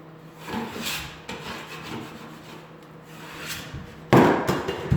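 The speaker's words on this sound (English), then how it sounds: "So I'm just going to scrape my angles real quick." A drywall knife scrapes dried joint compound off corner angles in a few short, close, raspy strokes, ending in a louder, harsher scrape.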